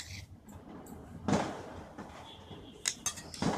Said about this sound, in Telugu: ఇవన్నీ మనం బాగా కలిపి మిక్స్ అయ్యేటట్టుగా మిక్స్ చేసి పెట్టుకోవాలి.